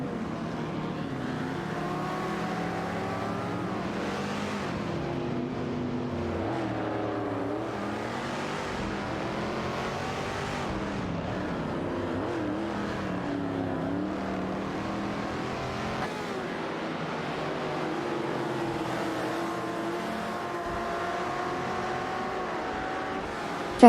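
Race cars in a racing video game running nose-to-nose down a straight, a continuous blend of engine drones rising and falling in pitch, steady and moderately loud with no voices.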